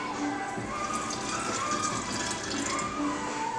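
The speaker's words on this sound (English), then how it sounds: "We're just gonna add some water." Water pours into a jar of sourdough starter in a home kitchen, a steady close trickle from a tap lasting a few seconds with no talking over it.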